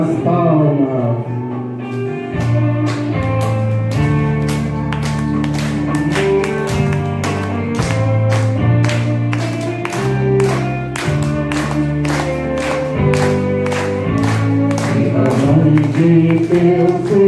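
A congregation at a Mass marking the arrival of Our Lady of Aparecida claps in steady rhythm along with sung music, loud and sustained for the whole stretch, the claps blending into the hymn's accompaniment.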